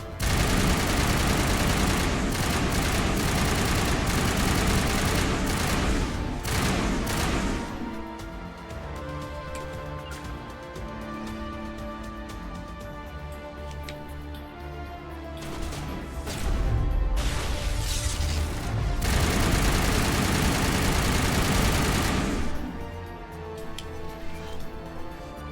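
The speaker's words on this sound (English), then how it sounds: "What are you shooting at over there?" Gunfire in the Mass Effect game on Virmire, dense bursts of rapid shots and crashing impacts, loud and near, pausing briefly between volleys before resuming.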